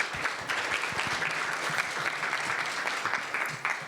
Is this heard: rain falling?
no